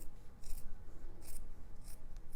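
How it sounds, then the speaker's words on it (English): Sharp scissors snip through marked fabric in three distinct crisp cuts, close and fairly quiet, with soft rustling in between. "Just cutting along those marked lines."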